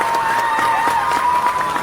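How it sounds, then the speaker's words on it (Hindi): Cartoon villagers clap with joy after a cricket shot, a short burst of crowd applause mixed with cheering voices and a bright tonal music line running underneath. "गांव वाले खुशी से ताली बजाने लगते हैं"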